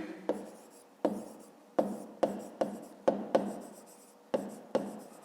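A pen writes by hand on paper while working a fifth-grade math exercise, a series of short, sharp scratching strokes separated by brief pauses, close and fairly quiet.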